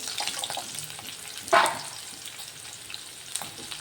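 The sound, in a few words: stirring dried chillies, green chilli and bay leaf in pan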